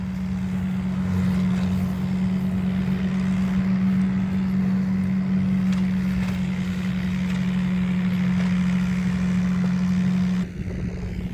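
A tractor engine runs steadily with a low, constant droning hum during village clean-up work, holding an even idle-like tone for about ten seconds before cutting off abruptly near the end.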